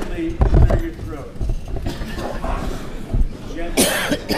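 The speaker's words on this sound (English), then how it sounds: "So would you stand up, please, and gently clear your throat." A crowd at a general assembly gently clearing their throats together, a soft overlapping murmur of brief coughs and throat sounds with some voices mixed in, plus a louder burst near the end.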